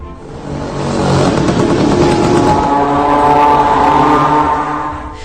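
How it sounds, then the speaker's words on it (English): A Shahed 136 drone's air-cooled four-cylinder engine drones with a loud, steady buzz, swelling and holding with a rough, throaty tone before fading slightly at the end. "this is not actually a moped but an air-cooled 4-cylinder engine"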